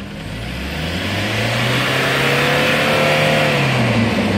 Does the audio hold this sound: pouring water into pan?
no